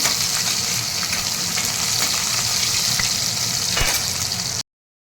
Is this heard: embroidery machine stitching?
no